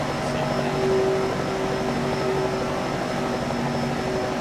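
A helicopter hovers over a Daytona 500 race in the NASCAR Racing 2003 video game, giving a steady, unbroken droning hum with faint tonal whines and no talk.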